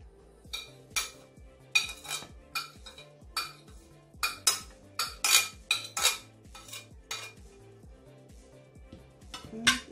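Utensil stirring and clinking against a bowl while egg is mixed into chicken lumpia shanghai filling, a steady run of scraping strokes and light clinks, close and fairly quiet with no talking.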